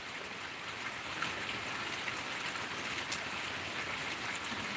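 Steady rain pours over a village, a dense, even hiss that stays constant throughout with no pauses or distinct drops standing out.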